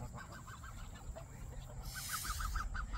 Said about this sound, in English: You feed them and they still hiss at you.